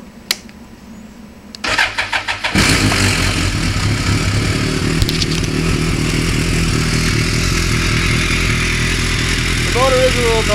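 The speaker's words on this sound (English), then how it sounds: "The motor is a little noisy. It does have high miles on it." A high-mileage 2007 BMW K1200R motorcycle engine cranks with a few clattering turns, then catches and settles into a steady, loud, somewhat noisy idle close by, with a brief voice near the end.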